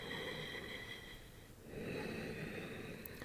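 Deep, slow breathing during a yoga flow: two long, close airy breaths in succession with a brief pause between, steady and breathy with no talking.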